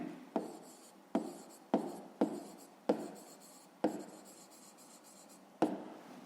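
A pen writes out a fifth-grade math solution by hand in short, close scratchy strokes, each starting with a tap and fading, spaced irregularly in a quiet room.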